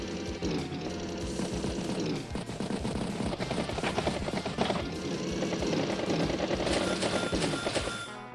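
The Battlecopter helicopter unit in the Advance Wars video game makes dense, rapid rattling bursts of machine-gun-like fire with a whirring rotor tone, held loud and continuous, shifting in pitch partway through.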